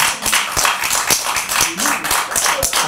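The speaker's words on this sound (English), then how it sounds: "Can we hold the applause?" Scattered clapping at a town zoning board of appeals meeting, a handful of distinct hand claps rather than a full ovation, with voices talking over them.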